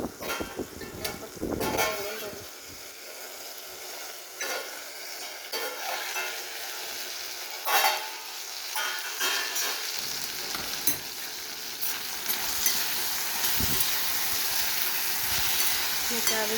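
Green chillies cooking in a pan for a Marathi chilli bhaji, sizzling and crackling with intermittent stirring scrapes; the sizzle grows denser and louder toward the end, with occasional faint voice sounds.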